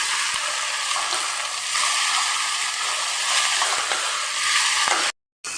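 Vegetables stirred in a hot pan, a steady close sizzle with small scraping and stirring sounds throughout, ending with a brief cutoff.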